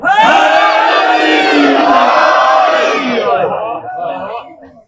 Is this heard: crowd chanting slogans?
yes